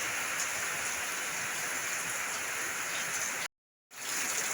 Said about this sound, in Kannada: ಎಷ್ಟೊಂದು ಮಳೆ ನೋಡಿ